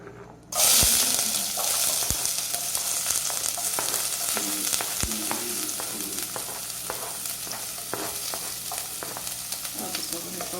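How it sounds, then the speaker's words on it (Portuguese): Meat with onion and garlic sautés in a pan on a home stove, a loud sizzle bursting in suddenly and then settling into a steady hiss, with occasional clinks of a utensil against the pan. "Aí agora eu vou refogar a carne."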